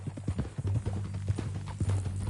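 Horse hooves clip-clop at a steady walking gait in the video game Red Dead Redemption, moderately close, with faint voices low in the background.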